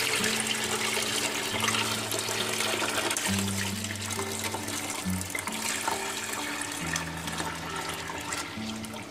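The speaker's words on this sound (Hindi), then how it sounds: "अब इसके अंदर जो मैंने बेसन का और दही का ये महलूल बनाया था इसको मैं डाल दूंगी।" A gram flour and yogurt mixture pours into a pan of pakora curry, a steady continuous liquid rush that stays loud and even throughout.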